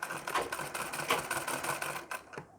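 Close up, a sewing machine runs a fast, steady stitching rattle along a blouse border folded over its lining, stopping just before the end.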